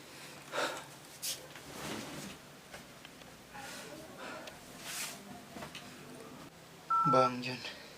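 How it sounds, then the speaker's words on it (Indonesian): A telephone number being dialed, with short DTMF keypad tones arriving in a quick run near the end, after a stretch of breathy movement and soft sounds. "Apa gue telepon Bang John aja ya?"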